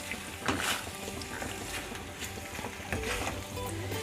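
Pasta stirred and sizzling in a pan for a desi style recipe, a soft steady fry with light scraping bursts from the stirring, fairly quiet and close.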